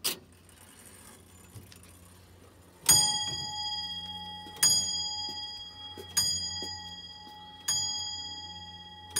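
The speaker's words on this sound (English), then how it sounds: "This clock has a beautiful sound to it when it strikes." An Edward Spalding tall case clock from Providence, circa 1770, strikes four times. Each ringing bell tone hangs and decays between blows, with faint ticking underneath and no voices, heard close and clear.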